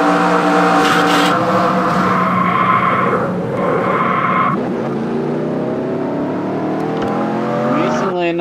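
An IndyCar in a racing video game screams at high revs as it rides the wall and crashes, with engine tones climbing and dropping under a commentator's voice.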